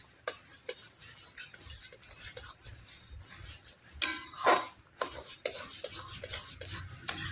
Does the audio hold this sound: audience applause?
no